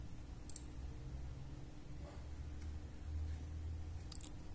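Computer mouse clicks while setting up an HP LaserJet MFP M4103FDW printer over Wi-Fi: a few faint, sharp clicks spaced apart over a quiet, steady background hum.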